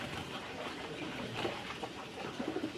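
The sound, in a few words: domestic pigeons cooing while being bathed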